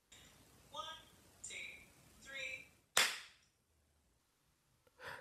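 A single sharp, loud hand clap lands on beat four of a counted bar in a networked collaborative music exercise, after a voice speaks, with another softer clap at the very end.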